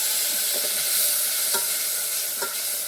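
Spices crackle and sizzle steadily in hot oil as tempering for kadhi, a close, loud frying hiss with a few sharper pops.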